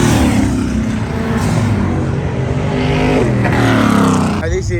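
A Holden VK with an LSA V8 of about 1,000 horsepower roars steadily at a Powercruise event, its loud, close engine note holding and rising, with crowd and talk buried under it.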